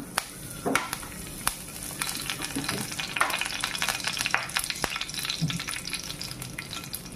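Curry leaves fry in hot oil with a steady crackling sizzle, close up, and sharp pops scattered throughout.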